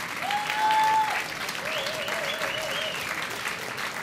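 Applause from a concert audience cheering band members at a fifteenth-anniversary show, steady clapping throughout with a faint whistle-like tone early and some wavering tones mixed in.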